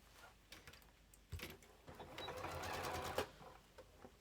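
A domestic sewing machine stitching the seam of a fabric project bag, quiet short bursts of stitching that build into a longer steady run, then stop.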